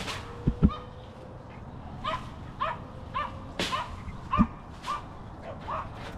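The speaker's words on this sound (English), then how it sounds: "That little dog is pissed." A small dog barks angrily in short sharp yaps, irregular bursts with a few louder ones, moderately close outdoors, no talk over it.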